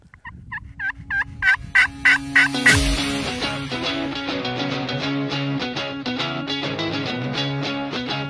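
A wild turkey gobbles in a quick rising series of loud, clear calls, followed by a music intro that carries on to the end.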